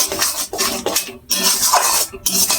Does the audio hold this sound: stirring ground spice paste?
yes